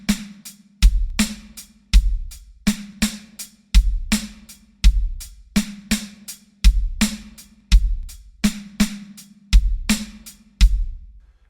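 A drum kit plays a simple groove slowly, with punchy kick drum and snare hits on a steady repeating pattern, each hit decaying quickly, loud and close with no voices.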